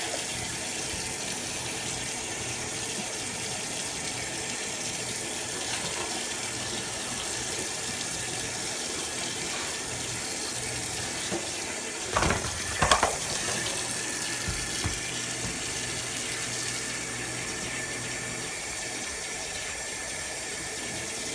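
Tap water runs steadily into a sink to rinse Easy Off oven cleaner off aluminum RC parts, with a constant close hiss and a few clattering splashes and handling knocks midway.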